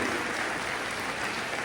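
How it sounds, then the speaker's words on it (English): Applause from a school summer band concert audience welcoming a new principal, a steady dense clapping wash throughout without pause, moderately distant and fairly quiet. "Round of applause for our teachers and our administrators."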